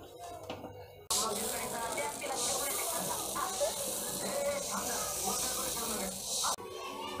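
Roasted grain for Malvani vade flour poured out of a hot pan makes a dense, steady rattling hiss for several seconds, close and loud, ending abruptly.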